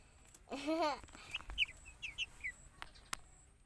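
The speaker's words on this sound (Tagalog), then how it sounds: "Yan po ang aking sisiw." A young chicken chick peeps in a few short, high, faint chirps after a louder rising call, with quiet gaps between them.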